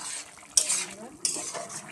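Spoon stirring paneer and potato curry in a pan with ghee and spices, two sharp scraping clatters against the pan over a soft low sizzle.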